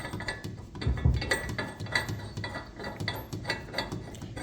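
A bolt is threaded into an electric bike rack, producing rapid, close clicking and ratcheting taps with a soft rattle, steady throughout and without talk.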